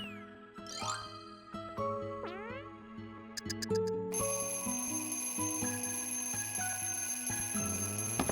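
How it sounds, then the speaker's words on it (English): Alarm clock ringing to wake a bear in the Kirby's Epic Yarn video game, a busy game sound of bright bouncing tones and boings giving way to a steady, sustained electronic ring. "waking up a bear with an alarm clock to have it open the path"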